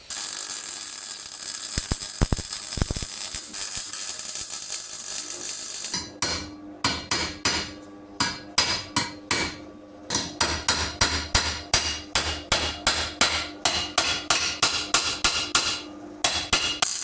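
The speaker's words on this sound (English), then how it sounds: "Obviously I still need to cut around here and hammer this down flush and stuff." A hammer beats a repair panel flush on a Reliant Rialto car, with loud, close, sharp metallic blows in irregular bursts that grow faster and more regular after a stretch of steady background noise.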